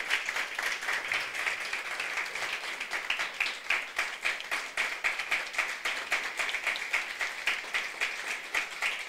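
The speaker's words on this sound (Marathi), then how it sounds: "वाजूया टाळ्या वाजूयात." A church congregation clapping together in a steady rhythmic beat during Sunday worship, many hands in time, continuous and moderately loud throughout.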